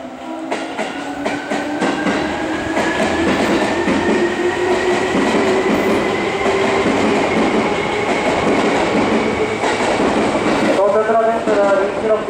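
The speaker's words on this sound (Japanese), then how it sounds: "列車到着です。" A Seibu 4000 series train pulls into a station, its steady loud rumble and wheel noise filling the platform, with a rising electric motor whine and some clicking near the end.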